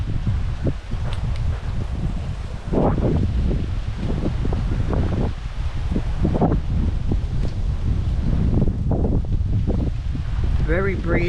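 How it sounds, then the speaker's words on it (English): Gusty wind rushes across the microphone on a breezy day on a woodland walk, a steady loud roar with swelling buffets and some rustling close by. "Very breezy today."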